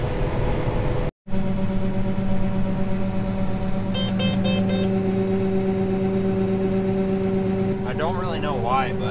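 A combine harvester runs through a wet, green corn harvest, its engine giving a steady, loud droning hum with a constant mechanical whine that holds for the whole stretch, apart from a brief dropout early on.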